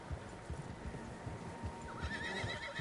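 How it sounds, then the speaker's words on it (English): Horses in the video game Red Dead Redemption 2: hooves clip-clop in a steady rhythm as horses move along, and a horse lets out a whinny partway through. "Horses, quite a few of them."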